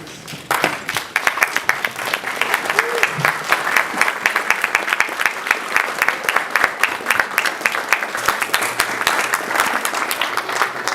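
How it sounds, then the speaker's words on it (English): An audience at an engineering students conference applauds to welcome the chief guest, Madam Ida, as she comes up; steady, dense clapping from many hands fills the room for about ten seconds without talk. "Let's clap for her."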